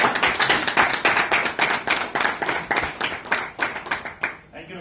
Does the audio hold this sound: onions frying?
no